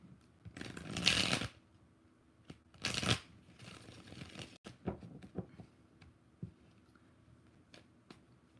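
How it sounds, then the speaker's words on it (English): Tarot cards are shuffled by hand in two loud riffling bursts, followed by softer scattered taps and card handling, close and without talk. "One more shuffle."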